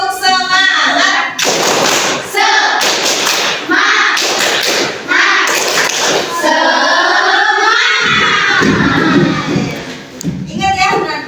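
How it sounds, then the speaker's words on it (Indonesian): Classroom spirit clapping, a rhythmic group clap-and-chant routine: bursts of hand claps and thumps in patterned beats, mixed with children's chanting voices, loud and close throughout. "Ini ya, tepuk semangat"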